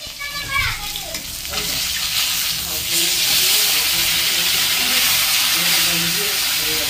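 Rohu fish pieces fry in hot oil, a steady loud sizzle and hiss that builds after a brief pause and carries on throughout, with some stirring clatter and a short bit of voice near the start.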